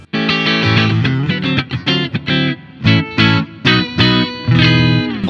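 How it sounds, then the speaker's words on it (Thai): An Ibanez RG320EXZ electric guitar plays through chorus, delay and reverb effects, with bright sustained notes and chords in a loose rhythm and shimmering tails between strums, alone with no talk. "ลองเล่นเอฟเฟคใส่คอรัสดีเลย์รีเวิร์บเล่นยาวไปบ้างอ่ะ"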